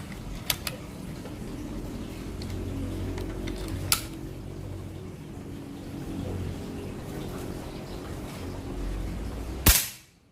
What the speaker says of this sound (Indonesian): Kita ingin dengar seperti apa suaranya kalau pakai Mimis apa ini Hercules ya.